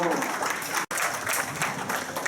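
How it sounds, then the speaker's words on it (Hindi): Loud, dense applause from an audience fills a formal government function in Ramban, continuous clapping that breaks off for an instant before resuming just as strongly. "जोरदार तालियां"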